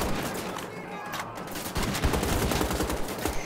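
Bursts of gunfire from the Wolfenstein: The Old Blood video game, dense and continuous, thickening into heavier rapid firing in the second half over a busy mix.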